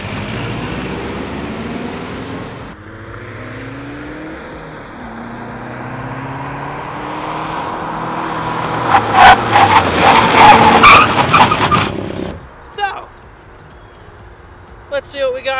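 Car floored in a 60-0 brake test on a street daily driver with upgraded brake rotors: a long rising engine drone through the gears, then a hard stop with loud tire squeals and skidding. Voices speak during the run.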